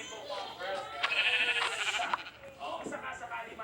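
A Minecraft sheep gives a wavering, nasal bleat in the middle of the clip, loud and close, with a second shorter bleat after it and game sounds around it.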